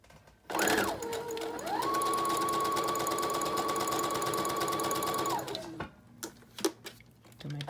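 A sewing machine back stitches the seam of a Halloween candy-corn treat bag. It starts up and runs in one steady, fast, buzzing stitch for about five seconds, close and clear, then stops, leaving a few faint clicks and handling noises.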